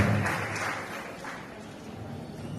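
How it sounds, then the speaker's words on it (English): A graduation crowd at Ember Charter Schools applauds families and parents, a dense and even roar of many hands clapping that fills the hall and holds steady before easing slightly toward the end. "A round of applause for you all, real quick."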